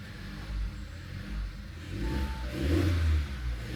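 A 2014 Audi A3 with a swapped-in engine idles steadily with a low rumble, rising slightly in a brief rev near the end, with no voices.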